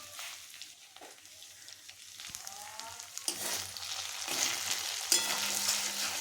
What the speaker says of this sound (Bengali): তো এটা ভাজা ভাজা হচ্ছে